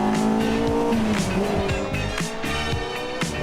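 A sports car's engine revs hard and shifts through gears while taking a corner, loud and close, with tires squealing briefly.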